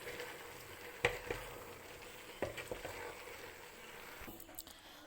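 Boiled al dente pasta being stirred gently into a tuna and vegetable sauce in a pan, with faint, soft sizzling and a few quiet squishy scrapes of the spoon.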